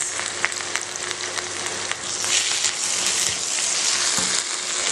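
Split green chilies and a handful of curry leaves sizzle loudly in frying onions for a mutton karepak, a dense, steady crackling hiss with sharper pops throughout, close and alone.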